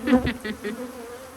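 Honeybees buzz close by at an opened hive during a hive split, a few quick pulsing hums over a steady droning background.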